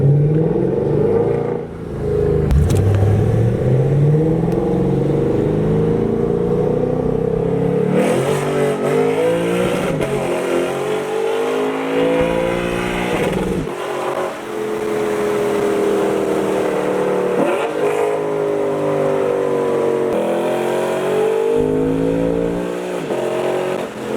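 A Lexus RC F with titanium Lexon Exclusive mufflers revs hard and loud, with several rising and falling engine sweeps and sharp throttle blips that continue throughout, alone without talk.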